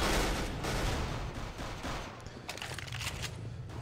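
Rapid gunfire in Counter-Strike: Global Offensive on PS3, a dense, loud burst of overlapping shots that thins into scattered cracks.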